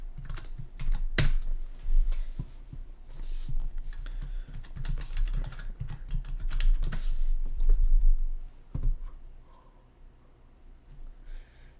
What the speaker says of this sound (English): So then we're gonna type in the password to it.